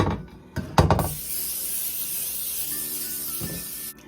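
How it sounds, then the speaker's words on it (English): Two short bursts of aerosol spray hiss at the start, followed by a steady broadband hiss and a faint hum, then a final quick spray before it stops. "so I'm gonna spray my pan."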